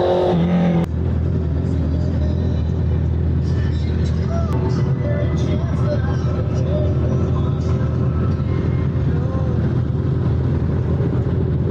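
A group of eight to ten motorcycles, including a Honda CB650R, rolls along with a constant dense engine drone and wind rush, exhaust notes rising and falling as bikes ride close by.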